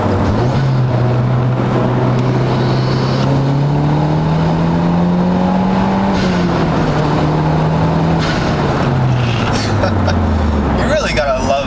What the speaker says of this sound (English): The stock exhaust sounds very deep, very throaty.